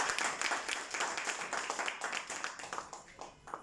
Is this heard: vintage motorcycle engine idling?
no